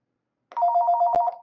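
A telephone rings once in a short electronic trill of rapid repeated pulses, clear and close with no talk over it, in a conference-call setting.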